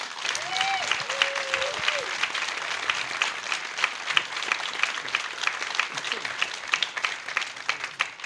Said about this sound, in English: Let's give the entire panel a round of applause.